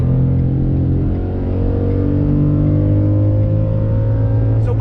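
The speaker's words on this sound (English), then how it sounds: "let's take the F-150 out on the highway, on throttle, time to merge" A 2021 Ford F-150 XLT Sport with a V8 accelerating onto a highway, a steady loud engine drone with rising harmonic tones as it pulls hard, heard from inside the truck.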